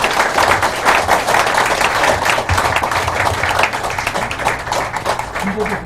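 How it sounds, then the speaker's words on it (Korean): Audience at a lecture event in a small Korean pub venue applauds steadily and loudly throughout, a dense wash of clapping from a gathered crowd. "뜨거운 박수 한번 보내주십시오"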